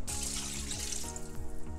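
About four cups of water pour into a cooking pot for Liberian torborgee beans, a close, steady splashing stream whose tone rises as the pot fills, with no voices.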